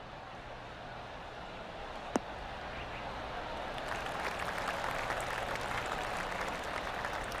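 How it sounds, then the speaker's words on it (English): Golf gallery applause in the video game PGA 2K23 at a course championship, a faint, steady patter of distant clapping that swells slightly midway and continues without talk. "golf clap"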